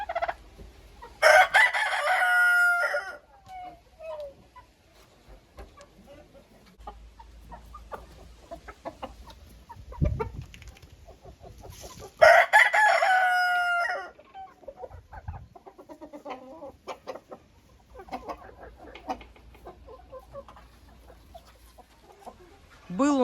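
Roosters crow loudly twice in a farmyard where turkeys and half-grown chicks have been put together, with softer clucking and scattered bird calls filling the quieter gaps between.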